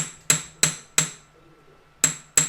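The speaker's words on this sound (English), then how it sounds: "So I'm going to take my crosshead hammer again, just to create kind of lines all the way along the piece." A crosshead hammer strikes a metal leaf necklace piece to texture it with lines, five sharp ringing taps, three evenly spaced then a pause and two more, close and alone.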